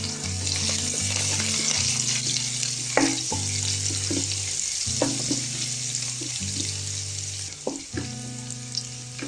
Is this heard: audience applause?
no